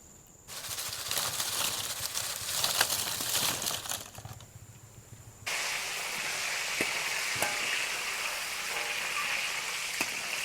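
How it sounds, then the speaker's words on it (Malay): Loud, steady sizzling and crackling of thin cassava chips frying in hot oil, with a brief dip and a clunk partway through before the hiss resumes. "Kalau rasa macam okey je setiap kali gorengan, letak setiap kali kita nak goreng."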